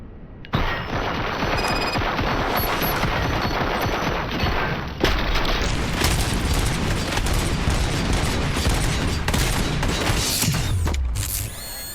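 Sustained gunfire in the video game RoboCop: Rogue City, a dense loud fusillade of rapid shots and booms running almost continuously for the whole stretch, with a brief surge midway and a heavy low thump near the end.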